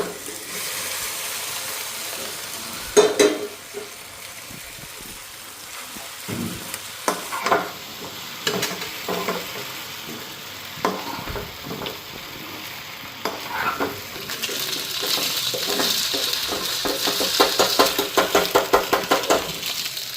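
Chowmein noodles being stir-fried with cabbage, carrot and onion in a pan, giving a steady sizzle with repeated scraping and knocking of the spatula and a brighter, louder frying hiss toward the end.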